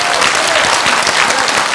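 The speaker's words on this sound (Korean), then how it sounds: "다시 한번 큰 박수 한번 올려주십시오" Loud, dense audience applause at a forum on local decline, steady clapping from a large hall audience filling the whole moment.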